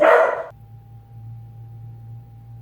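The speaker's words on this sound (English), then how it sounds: "my dogs were losing their mind because the Amazon truck was here" Dogs bark at an Amazon delivery truck: one loud, close bark rings out at the start, then a low, steady indoor hum continues alone.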